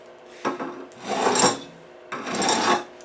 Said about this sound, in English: I gotta make sure that I don't have any burrs on it. No burrs, because I'm filing away from the root side